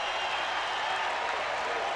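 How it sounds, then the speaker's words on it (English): A football stadium crowd at a 2000 Chiefs at Chargers game roars in a steady, distant wash of cheering and noise, filling the whole two seconds without clear breaks. "The crowd is getting into it"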